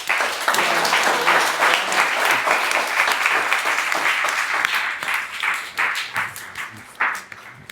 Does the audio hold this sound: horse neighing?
no